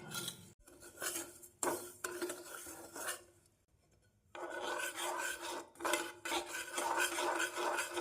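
Sugar caramelizing in a pan over medium flame is stirred continuously, a close, rasping scrape repeated in bursts with a brief pause midway.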